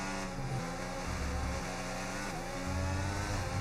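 A Formula 1 car engine in the video game F1 25 roars steadily and loudly at Austin, its pitch rising and dropping with revs and gear changes, alone without voices.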